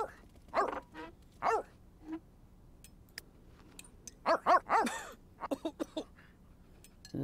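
Dog sounds from The Sims 3 life-simulation game: a few short yips and whimpering bark-like calls in clusters, moderately loud and close, separated by quiet stretches.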